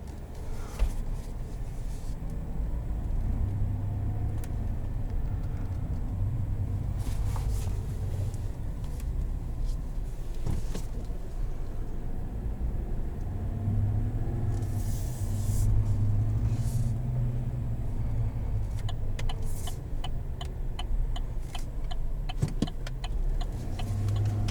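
Cabin view of a 2020 Chevrolet Silverado 1500 Z71 Trail Boss pickup with the 5.3-litre V8 driving on a road: a steady low engine and road rumble, with occasional light ticks and clicks inside.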